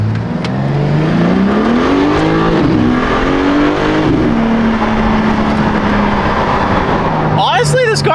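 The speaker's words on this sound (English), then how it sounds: "Honestly, this car sounds pretty good." BMW M4 Competition engine revving loudly as it pulls away, pitch climbing and holding through acceleration, close and continuous, with a brief tire squeal or chirp near the end.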